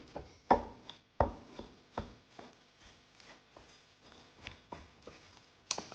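Coconut crust crumbs mixed close up in a bowl for low-carb, sugar-free blackberry coconut bars: irregular scraping and tapping strokes, a few sharper knocks, steady and nearby with no talking.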